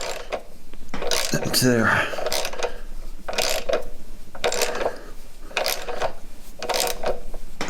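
Bolt being driven and cutting its own threads into a Honda GX160/GX200 small engine while an electric start is fitted, giving repeated ratcheting and grinding bursts in a steady rhythm, close and fairly loud, with a brief spoken remark in the middle.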